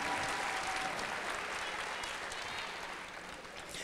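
An audience at a Head Start graduation ceremony for children gives a sustained round of applause that fades slightly toward the end, heard at a moderate distance.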